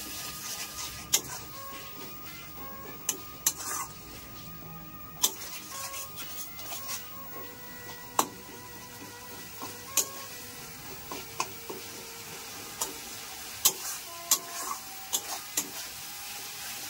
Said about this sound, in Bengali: এবার ঢাকনাটা খুলে মশলাটাকে নেড়ে দেবো